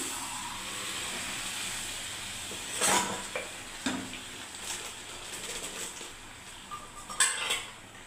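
Yellow peas tipped into hot oil with frying spices in a home kitchen, giving a soft steady sizzle and hiss broken by a few clinks and scrapes of a utensil against the pan.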